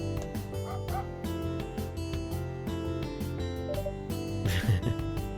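A dog barking in the video game Headliner: NoviNews: repeated quick yips and bow-wow barks over steady background music, moderately loud and evenly paced.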